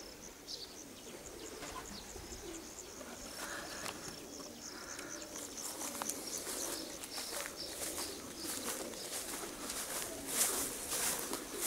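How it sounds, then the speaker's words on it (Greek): Stefanos Savvidis's pigeons coo softly at a loft in Veria in summer, amid a steady outdoor bed of faint bird chirps and insect buzz, with no voices. "Να τα φίλοι μου τα περιστέρια του Σαββίδη"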